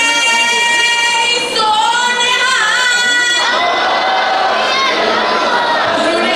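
Crowd at a turban tying competition in New York shouting a Sikh jaikara response in unison, loud and sustained with overlapping voices for several seconds.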